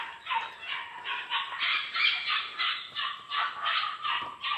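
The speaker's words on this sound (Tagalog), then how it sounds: "May narinig ako mga aso dun." Dogs barking repeatedly at a distance near a botanic garden nursery, a steady run of yapping barks with short gaps, no voices.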